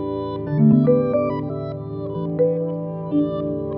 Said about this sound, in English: I'm going to use a machine to change my voice